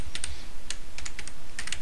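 Quick, close clicks on a computer keyboard during coding, a rapid run of crisp keystrokes with short gaps between them.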